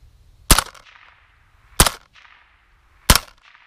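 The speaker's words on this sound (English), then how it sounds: "Shooting into the dirt at about 12 yards." Suppressed AR-57 with a Dead Air suppressor firing subsonic ammunition into dirt about 12 yards away: three sharp, loud reports about 1.3 seconds apart, each followed by a short mechanical clatter and a brief decay into quiet.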